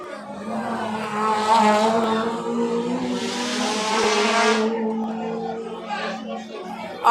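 Race cars sweep through a corner at a Jamaican carnival-of-speed circuit race, engines roaring loudly and steadily with a rising, rasping pitch as the pack passes close, with a commentator talking over the noise.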